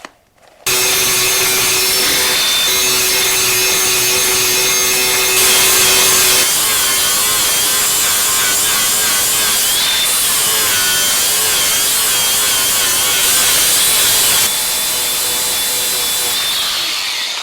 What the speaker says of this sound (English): Now time for the old grinder. This time wearing a respirator because lots of grinding dust.